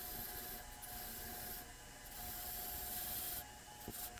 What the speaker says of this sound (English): Then back to the wire wheel.